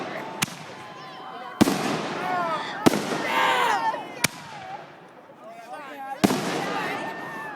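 New Year's 2015 fireworks go off outdoors, sharp cracking bangs a few seconds apart followed by whistling, crackling trails, with people talking and exclaiming between the blasts.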